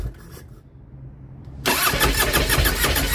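A Harley-Davidson Road Glide motorcycle engine cranks faintly, then catches and fires up into a loud, rough, pulsing idle; no one speaks.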